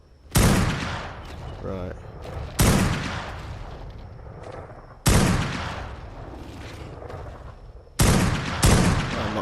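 Gunfire in the ARK survival video game, four sharp, loud shots with echoing tails that decay slowly, spaced a couple of seconds apart, one followed quickly by a second shot, with someone briefly speaking between them.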